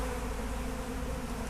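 Honey bees buzz in a dense, continuous swarm drone, steady and loud throughout with no pauses and no talking.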